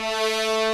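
Low brass entrance layered with a timpani hit, a loud sustained rich chord held steadily for under a second.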